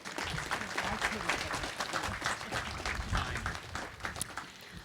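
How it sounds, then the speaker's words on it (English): Audience applause at a Veterans Day ceremony, a steady wash of many hands clapping at moderate distance that keeps going throughout, with some voices mixed in. "Let's give another round of applause to Mr."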